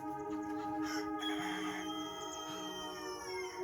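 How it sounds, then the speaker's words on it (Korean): Several native Korean roosters crow over one another in overlapping calls, loud and close, with clucking hens mixed in. "실제로 닭들의 울음소리가 합창을 하듯 들려왔습니다."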